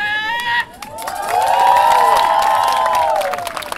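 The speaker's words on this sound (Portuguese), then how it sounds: "Agora eu quero ouvir o grito da torcida para ele que veio de longe!" A crowd of fans cheers and shouts for a performer introduced as a dragon. Loud sustained voices swell after a brief dip, with a wave of overlapping yells holding for several seconds.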